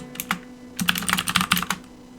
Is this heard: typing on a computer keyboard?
yes